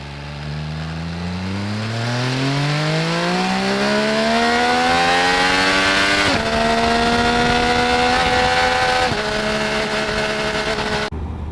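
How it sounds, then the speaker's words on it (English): An MV Agusta F3 800 three-cylinder motorcycle engine revs up steadily, its exhaust note climbing in pitch, then holds loud and shifts a couple of times before cutting off abruptly. "once you get on it, the exhaust sounds awesome."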